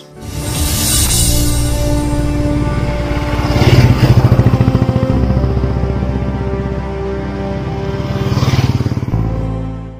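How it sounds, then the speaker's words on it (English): An old cast-iron Royal Enfield Bullet single-cylinder motorcycle engine thumps steadily at idle with a deep, loping beat, swelling briefly twice as the throttle is blipped. "the duck duck sound from the old school engine keeps all the tensions away"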